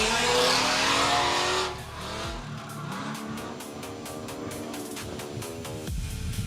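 Drift cars slide through a drift competition run, engines roaring loud and tires squealing continuously, with revs rising and falling as the cars transition across the course.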